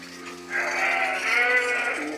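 A sheep bleats once in a long, wavering cry inside a milking parlour on a sheep farm, close and clear over a quiet background hum.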